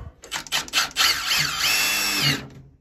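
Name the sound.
power drill drilling a hole in a water heater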